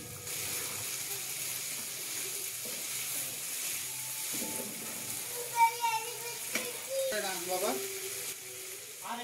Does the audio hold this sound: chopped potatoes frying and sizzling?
yes